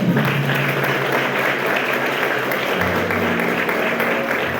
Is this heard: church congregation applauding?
yes